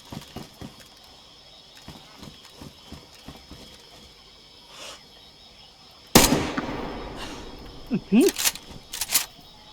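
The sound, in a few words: gunshots shooting zombies in video game DayZ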